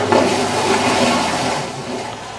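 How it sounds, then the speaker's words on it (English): A Horow X70 smart toilet flushes in a steady, loud rush of swirling water that lasts throughout and fades slightly toward the end, with no voices over it. "so we can at least do a flush"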